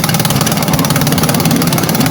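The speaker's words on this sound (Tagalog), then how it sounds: "babalik natin yung kanyang spark plug cap para matesting na natin paanda rin yung motor ng ating customer" A repaired motorcycle engine, running again after an ignition coil fault, idles loud and close with a steady, fast, even throb and no pauses.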